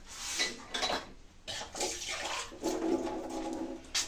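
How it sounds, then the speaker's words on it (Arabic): A little water poured into a cooking pot with chicken, spices and saffron, heard as short splashing bursts and faint clinks of pots and utensils, close and fairly quiet. "ندير شويه الماء"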